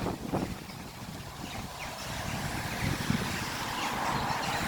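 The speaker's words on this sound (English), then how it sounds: "It's a wee bit cold, windy and rainy today." Steady outdoor wind rumbling and buffeting the microphone on a cold, rainy day in Aviemore in the Scottish Highlands, continuous and fairly loud with no speech.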